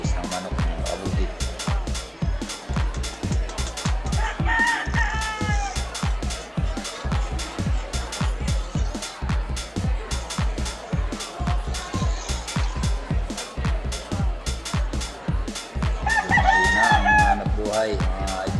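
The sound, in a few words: chickens clucking and roosters crowing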